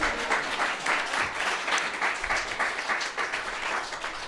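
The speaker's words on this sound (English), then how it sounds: "Give him a round of applause." A comedy club audience gives a comedian a sustained round of applause, dense rapid clapping that holds steady for several seconds, loud and full across the room with no voices above it.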